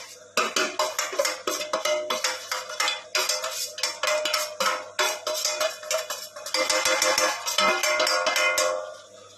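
Rava kesari being stirred in a pan with ghee: a quick, steady series of metallic scrapes and clinks of a spoon against the pan, loud and close, and busiest near the end.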